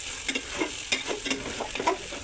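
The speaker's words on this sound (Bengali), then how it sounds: "আলু দিয়েও আমি বারবার নেড়ে চেড়ে মিশিয়ে দিচ্ছি" Potatoes and beef tripe are stirred in a hot frying pan, a steady sizzle broken by repeated close scraping and clattering strokes of the spoon.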